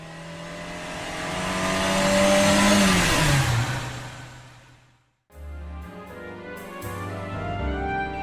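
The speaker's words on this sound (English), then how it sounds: "I got in, kicked a starter. Then I jammed the throttle all the way down to the floorboards." A car engine is revved hard with the throttle floored, a loud rising roar that swells and falls away. After a short cut it comes back as a steadier, lower engine drone, close and with no voices.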